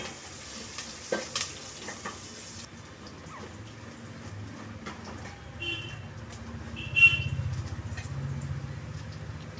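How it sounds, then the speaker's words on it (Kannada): Onions fry quietly in hot oil for the tempering of a sprouted horse gram greens sambar, a soft intermittent crackle with faint stirring and clinks, rising into a louder, denser sizzle toward the end. "ಒಗ್ಗರಣೆಗೆ ಮಾತ್ರ ಹಾಕ್ಕೊಂಡು ಚೆನ್ನಾಗಿ ಬ್ರೌನ್ ಕಲರ್ ಬರೋಷ್ಟು ಫ್ರೈ ಮಾಡ್ಕೋಬೇಕಾಗುತ್ತೆ ಈರುಳ್ಳಿನ"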